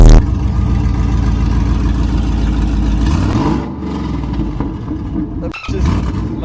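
A Lexus IS350 whose exhaust has fallen off, leaving it running essentially on open headers, starts and revs hard. The raw engine roar is loud and close, climbing in pitch partway through and dipping briefly before surging again.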